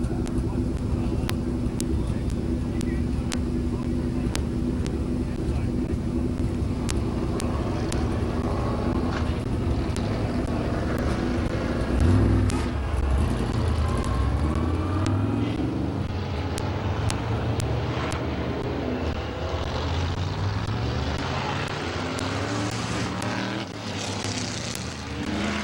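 Race cars circle laps at Midvale Speedway, a continuous loud roar of engines swelling and passing as the pack goes by, with an announcer talking over the noise.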